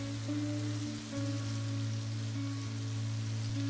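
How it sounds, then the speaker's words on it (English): Red chilies and curry leaves sizzle in hot mustard oil as a tempering for raw mango pickle, a steady close crackling hiss that runs without a break and with no talking. "How beautifully it is sizzling, you can hear the sound."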